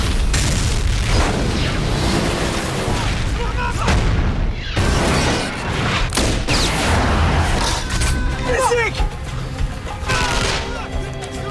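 Bomb blast beneath the militants' car in a film action scene: a loud, dense boom with rumbling debris and sharp crackling bursts like gunfire, sustained and close throughout.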